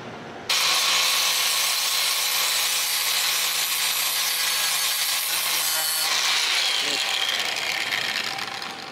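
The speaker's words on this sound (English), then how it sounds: "I'm going to see if I can clean it up with a flapper disc." An angle grinder with a flap disc grinds steadily against a rough cut edge, a loud continuous abrasive whine that runs without break for about eight seconds.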